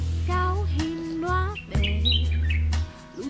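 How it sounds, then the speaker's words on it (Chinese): Small birds chirp and tweet among tropical plants and trees in a botanical garden on Ocean Flower Island, with bright, close calls repeating in short bursts over a low steady hum. "而且这里有很多小鸟在这里叽叽喳喳叫个不停"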